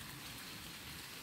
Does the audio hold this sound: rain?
yes